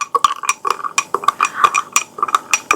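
A spoon clinks steadily against a glass while soda is stirred into lemon sherbet, quick repeated metallic taps close by, with no talking.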